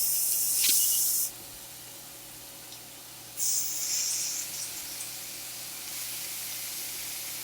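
Lamb hits a pan preheated on high and sizzles with a loud, hissing spray, in two bursts separated by a quieter steady hiss.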